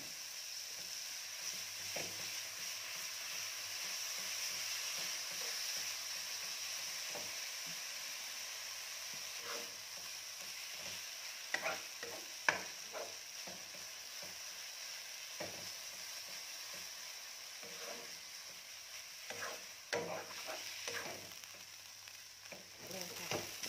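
Mushrooms frying in a pan for vegetarian rad na after a splash of water is added, giving a steady loud sizzle with scattered scraping stirs of a spatula throughout.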